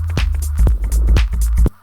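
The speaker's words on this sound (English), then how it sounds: "I really like the way those echoed percussions are playing" Minimal house beat with echoed percussion hits repeating over a steady low kick and bass, the delayed taps trailing and overlapping in a loose, fluid groove, loud and close with no voices.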